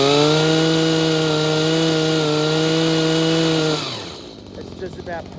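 Small two-stroke engine of a Stihl HS45 hedge trimmer running steadily after carburetor adjustment, a loud close buzzing drone that holds even, then drops away and cuts off near the end.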